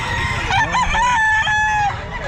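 A seven-month-old lemon sweater gamefowl rooster crows once, close and loud, a rising then sustained cock-a-doodle-doo at a busy pet market with faint clucking underneath.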